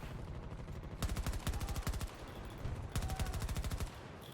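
Automatic gunfire in Battlefield 2042 on Xbox Series X, two rapid bursts of evenly spaced shots, each lasting about a second, over a faint low background rumble.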